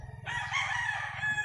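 A rooster at a backyard game farm in Compostela, Cebu lets out one loud, drawn-out crow close by, over a low background rumble.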